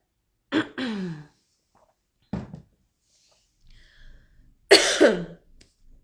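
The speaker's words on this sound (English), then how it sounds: "I still have a bit of a cough, but it's all right." A woman coughs and clears her throat in a quiet room: a couple of sharp coughs, another short one, then a louder throat-clearing burst, with silent gaps between.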